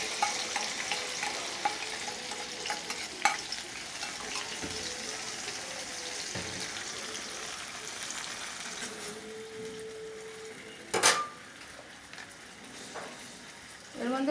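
Cumin seeds, poppy-mustard paste and green chili frying in oil, a continuous hissing sizzle at close range with occasional utensil clinks and one sharp knock near the end, no voices.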